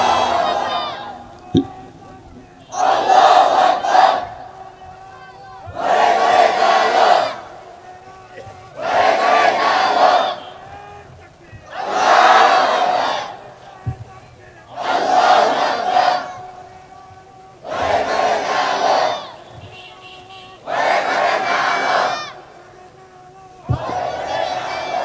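A large crowd at a waz sermon in Tangail shouts takbir, Allahu Akbar, in loud unison bursts repeated about eight times at a steady rhythm of roughly three seconds, with brief quiet gaps between the chants.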